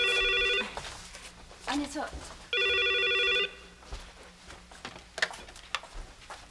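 An old telephone bell rings in two bursts of shrill electric ringing, each about a second long and separated by a pause, inside a room in a 1987 Korean TV drama, with a voice speaking briefly between the rings.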